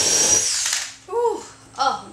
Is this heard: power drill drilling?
yes